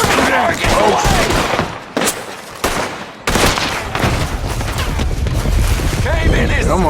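Gunfire bursts from the Red Dead Redemption II video game, loud repeated shots and booms in a dense, chaotic mix, with game voices talking over the action.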